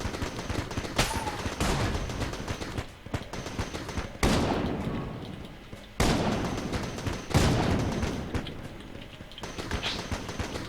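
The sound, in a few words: gunfire during Bullet King boss fight, video game Enter the Gungeon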